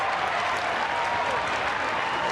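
A football crowd at an AFL preseason match, Port Adelaide against Melbourne, claps steadily in a dense, continuous wash of applause that fills the stadium without a break.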